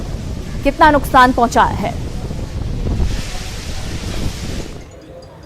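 Strong gusting wind of Cyclone Nisarga in Mumbai, amid heavy rain, as NDRF personnel clear a fallen tree from a road; a steady loud roar of wind and rain continues under a man's speech and then stands alone.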